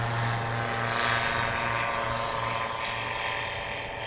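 A STOL airplane flies at the Pony Express STOL Competition in St. Joseph, Missouri, with a steady, loud propeller engine drone whose tone holds level and fades slightly toward the end.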